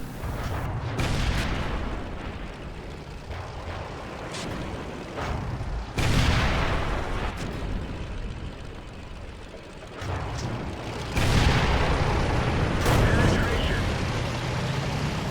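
Tank cannon fire in World of Tanks, with shots hitting a KV-1: several booming gunshots, each a heavy blast followed by a rumbling decay, against a constant mechanical engine hum with game noise throughout.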